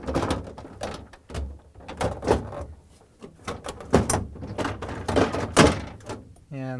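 Samsung refrigerator pantry drawer pushed in on its rollers after installation, giving a string of close sliding knocks and thunks in an uneven rhythm, ending in a short squeak.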